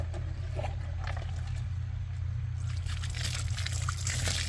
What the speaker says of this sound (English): We make a liquid solution with activated charcoal and pour it over the compost bed.